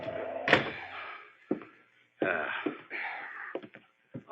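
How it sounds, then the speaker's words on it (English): A door is kicked shut as a radio drama sound effect: a sharp slam followed by scuffing, creaking thuds and short knocks, fairly close and heard without talk. "Kick the door shut."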